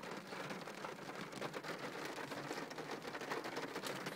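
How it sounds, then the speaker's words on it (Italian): Heavy rain pours down outdoors near a river, a dense, steady hiss of countless drops striking surfaces, fairly faint overall and continuous, with no talking. "Ma piove di brutto, qua."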